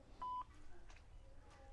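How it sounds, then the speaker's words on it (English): A smartwatch accidentally dials out, giving a single short, clear touch-tone beep near the start, followed by faint room noise and distant voices. "my watch is calling people"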